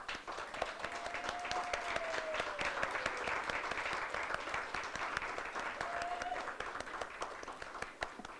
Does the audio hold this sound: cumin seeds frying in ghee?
no